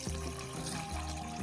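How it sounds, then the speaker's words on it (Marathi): Water poured from a tap or jug into a cooking pot of spiced, coriander-mixed base for Maharashtrian tempered rice (phodnicha bhaat): a steady, close splashing rush that runs continuously for the whole moment, with no talking. "आता टाकून घेऊ फोडणीच्या भातासाठी पाणी."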